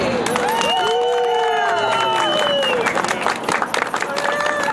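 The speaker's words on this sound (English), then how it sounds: "we want to give Tech ER a big round of applause as they cut the ribbon to celebrate their second anniversary" Crowd applauding and cheering at a business's second-anniversary ribbon cutting, loud continuous clapping with whoops and overlapping voices mixed in.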